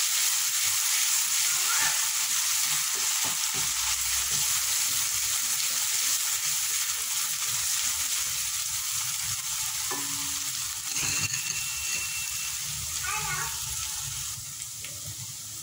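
Garlic and ginger paste fries in a hot pan for Karachi-style potato kachori curry, with a steady close sizzle and occasional stirring scrapes throughout, alone without talk.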